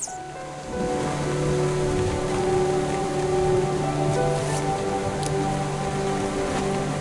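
Heavy rain in a video game pours down steadily in a dense, hissing wash, with a few brief sharper patters rising over the constant roar.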